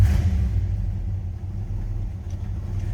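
A 1956 Chevrolet Bel Air 2-door post with a 327 V8 and 4-speed manual idles nearby, a steady, deep, throbbing rumble that stays even throughout with no voices.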